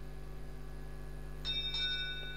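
A fischertechnik TXT controller plays a short electronic bell tone, a bright ringing onset that sustains briefly over a steady background hum, heard alone.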